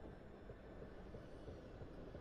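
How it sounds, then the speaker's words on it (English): A train pulling out in a South London rail network simulator game, a steady low rumble of wheels and engine running evenly throughout with no talk. "There's a train leaving."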